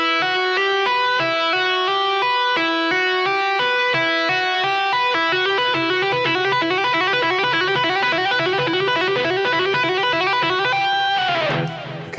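A guitar plays a two-handed tapping semi-quaver arpeggio lick, a fast even stream of bright tapped notes stepping through shapes for about twelve seconds, loud and clean with a brief ringing flourish at the end.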